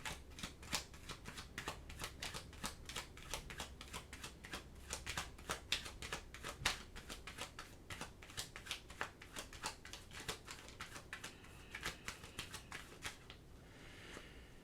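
Tarot cards being shuffled, a quick continuous patter of crisp card flicks and riffles lasting several seconds, close and faint, with no talking.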